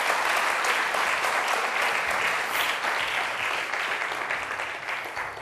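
Studio audience at the Turkish word quiz show Kelime Oyunu applauding a contestant, a dense, steady roar of clapping that holds loud and even throughout before easing slightly at the end.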